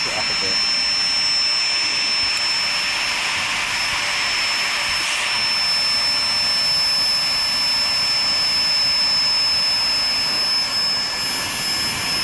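A torch flame roars steadily and loudly against an Olight Seeker 4 Pro flashlight under a destruction test, a continuous hiss with voices talking faintly beneath it.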